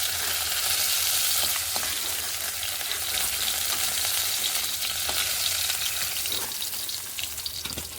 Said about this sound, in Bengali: দ্বিতীয় খোলার মাছও ভাজা হয়ে গেছে